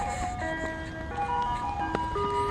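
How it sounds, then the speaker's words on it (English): An ice cream truck plays its melodic jingle outdoors, a steady tinkling tune carrying at moderate distance over low traffic rumble. "I haven't seen an ice cream truck since we were kids."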